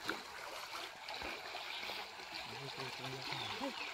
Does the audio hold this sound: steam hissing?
no